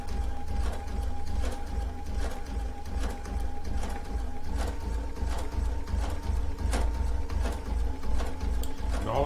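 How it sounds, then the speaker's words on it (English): A sewing machine stitches fabric for a rag quilt, a steady mechanical whir with a fast, regular clatter and a faint pitched hum, running continuously at moderate volume. "You got to let that machine pull the fabric through, or it is not a happy camper."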